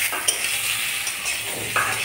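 Potatoes sauté in a hot pan, a steady soft sizzle with a couple of brief scraping stirs, fairly close and without talk.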